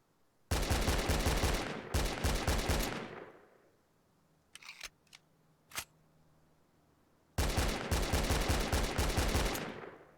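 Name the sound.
SKS rifle gunfire in a video game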